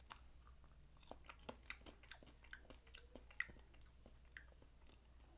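Close, crisp chewing and crunching of an edible bug such as a tarantula, scorpion, grasshopper or cricket, seasoned with Mexican spice, cheddar or barbecue, with repeated small bites and squishy crunches through the whole stretch.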